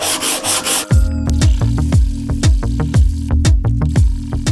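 Sheet of 120 grit sandpaper rubbed on the wooden lining of a keepsake box, a close, loud run of regular back-and-forth strokes after a brief different noise at the start, no voices.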